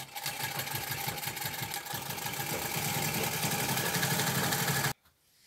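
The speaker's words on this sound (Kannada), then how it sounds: "ಹೊಲಿಗೆ ಹಾಕ್ಕೋಬೇಕು." A sewing machine stitches a cloth strip for a temple deity idol's dress, a close, steady motor whir with fast rhythmic needle pulses that cuts off abruptly near the end, no talking.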